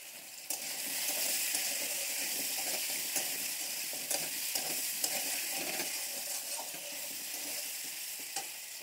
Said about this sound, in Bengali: আলু কটা ভেজে নিচ্ছি